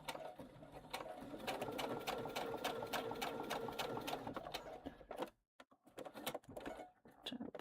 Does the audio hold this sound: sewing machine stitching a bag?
yes